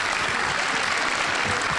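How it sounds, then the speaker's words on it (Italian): An indoor audience applauds a water polo goalkeeper at an event, with dense continuous clapping from many hands filling the short stretch, loud and without pause. "Un applauso ancora a Marco De Lungo"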